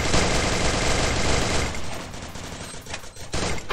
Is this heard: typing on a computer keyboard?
no